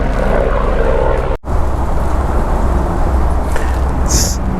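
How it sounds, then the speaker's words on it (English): A propeller airplane passes overhead outdoors, a loud, continuous engine drone and airscrew rumble that fills the moment steadily, with a brief dropout partway through and no talk. "We're gonna hold while the plane passes."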